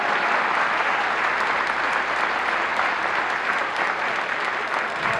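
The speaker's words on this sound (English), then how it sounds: "Big round of applause for our 6th grade band." Audience applause for a 6th grade school band at a spring concert, a broad, dense wash of many hands clapping at once, loud and sustained without pause.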